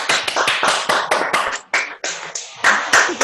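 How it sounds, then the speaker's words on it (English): Irregular hand claps, loud and close, probably from a few people on an online call welcoming a guest speaker, each clap a separate sharp burst rather than a blended ovation. "round of applause. If we could clap."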